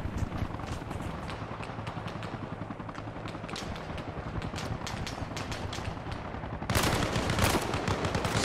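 Gunfire in the video game Arma Reforger crackles in rapid, uneven bursts of shots, some close and sharp, others more distant, with a louder, denser volley toward the end.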